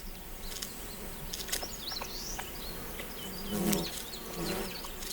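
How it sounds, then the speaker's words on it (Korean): Asian giant hornets feeding on oak sap on a large tree trunk in a forest, giving a steady low insect buzz with a few louder swells as they move close, amid faint outdoor ambience and no voices. "먼저 자리를 잡은 장수말벌이 참나무 수액을 먹고 있다."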